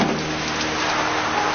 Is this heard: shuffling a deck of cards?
no